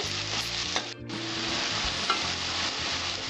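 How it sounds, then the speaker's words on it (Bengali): Salted onions frying in a pan until brown for a pomfret fish curry, a dense close sizzle with spatula stirring and scraping, one brief dip in the middle. "পেঁয়াজটা আমি ব্রাউন কালার করে ভেজে নেব।"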